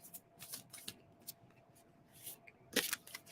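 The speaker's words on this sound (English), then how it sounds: "I will shuffle again." A deck of playing cards is shuffled, quick riffling bursts of paper flutter and snaps in short irregular clusters, close and fairly quiet, with a louder burst near the end.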